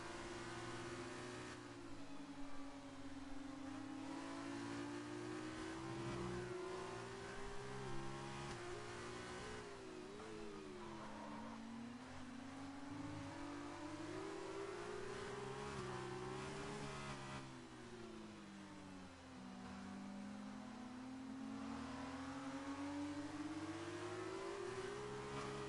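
Formula 2 race car engines at a racing championship drone continuously at a distance, their pitch rising and falling in long sweeps as the cars accelerate and shift through a circuit, with no talk.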